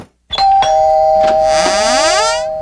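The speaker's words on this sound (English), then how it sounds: "Any interest in a new doorbell?" A doorbell rings alone and loud: two bright chime strikes, then a sustained electronic ding-dong tone that swells and slowly fades.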